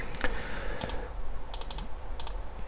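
Key presses on a computer keyboard: a handful of sharp, close clicks in small clusters, including a quick double tap, over soft background noise with no talking.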